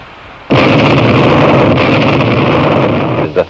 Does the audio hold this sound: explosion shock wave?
yes